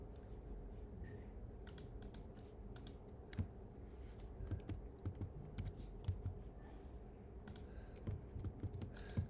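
Computer keyboard keys clicking as a shortcut is pressed while formatting code in an editor, with scattered sharp taps and short clusters of keystrokes over a low room hum.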